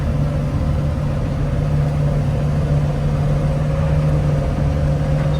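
A vehicle drives steadily through a grain field at harvest, its engine holding a constant, loud mid-low drone with a steady tonal hum and no pauses.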